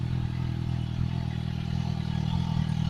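A 2012 Suzuki GSX-R750 with its muffler removed idles steadily, a loud, close, raspy engine drone with a rapid pulsing exhaust beat that stays even throughout.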